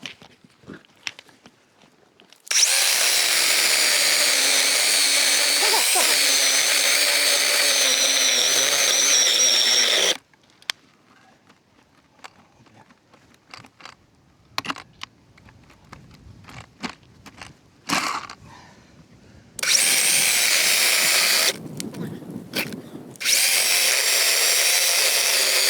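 A hand saw cuts wood in a winter forest cabin, long stretches of loud rasping strokes broken by quiet pauses with scattered scrapes and knocks, then two more bursts of sawing.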